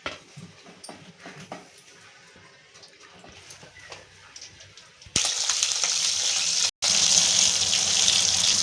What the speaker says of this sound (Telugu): ఈ విధంగా వాటర్లో ఒక 3 టైమ్స్ బాగా క్లీన్ చేసి కడుక్కోవాలి ఫ్రెండ్స్ ఈ ఆకుకూర అనేది